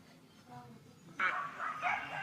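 A German Shepherd puppy gives a few short, high yips and barks close by, in quick bursts over roughly a second, with human voices murmuring faintly around it.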